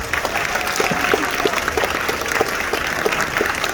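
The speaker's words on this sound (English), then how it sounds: "you get a round of applause for what you did for us" Steady applause from a crowd at a singles conference comedy and mentalism show, dense clapping filling the space at an even level throughout.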